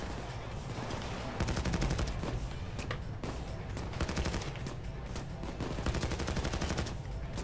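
Dense gunfire in the Payday 2 video game: rapid, overlapping automatic bursts and sharp shots ring out loud and continuous with almost no gaps, forming a steady fusillade.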